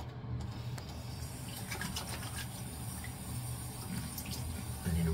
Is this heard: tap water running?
yes